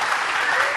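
Applause from a school audience for first-year students after a debate presentation, a steady, dense wash of clapping that holds loud and even throughout.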